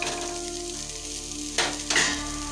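Vegetables for veg chowmein sizzle in a hot pan while being stirred. Two louder bursts of sizzle come late, sitting over a steady low hum.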